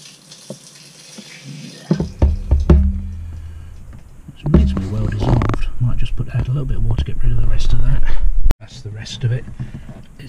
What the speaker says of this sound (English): Take that off and I'm just going to pour the mixture in there